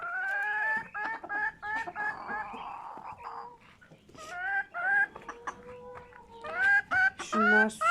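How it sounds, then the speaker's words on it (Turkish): Chickens cluck and squawk close by in an irregular, busy chorus, with a few louder calls near the end. "tavuklarımız"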